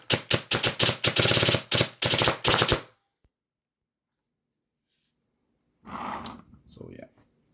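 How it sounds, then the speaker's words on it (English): Cyma M4 Sportline airsoft rifle, fully tuned, firing rapid semi-auto shots in a fast run of sharp, close cracks for about three seconds, followed by silence and then a brief voice. "I'm gonna try to show you how fast that guy can shoot in semi-auto"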